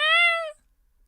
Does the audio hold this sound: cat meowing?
yes